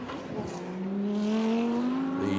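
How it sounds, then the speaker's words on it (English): A DTM race car crosses the start-finish line at the Norisring street circuit, its engine note rising in a loud, steady whine as it approaches and passes close by, with a faint commentator voice beneath. "So across the start-finish line comes Rene Rast with the"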